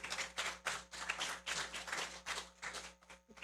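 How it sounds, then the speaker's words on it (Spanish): A small audience at a live show claps to welcome a guest, a fairly quiet burst of applause pulsing in uneven waves over a few seconds, with no talk over it. "Un aplauso."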